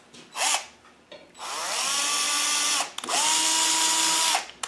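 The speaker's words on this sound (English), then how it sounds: "Just using a tap in a drill bit" A power drill fitted with a tap cleans rusty threads on a Land Rover clutch master cylinder, whirring in two long sustained runs, steady and close, after a couple of short bursts at the start.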